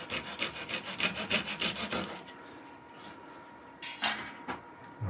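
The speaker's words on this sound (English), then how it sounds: "we'll do a little bit of sanding on this, not too much" Sanding on a wood-turned angel piece gives a quick run of rhythmic rubbing strokes, about ten close together, then a pause and a couple of short scrapes; no talking.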